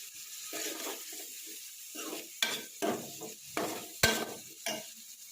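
Tomatoes stirred into hot oil with ajwain, cumin and chili produce a soft sizzle broken by a rhythmic series of scraping, rustling stirs and a sharp clack of the spoon against the pan.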